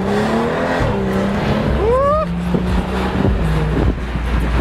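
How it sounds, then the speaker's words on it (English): Twin-turbo BMW convertible driven hard in sport mode, its engine droning loud and close with rising revs and a brief sweeping pitch climb under excited talk from the occupants. "I'm driving a twin turbo Beamer."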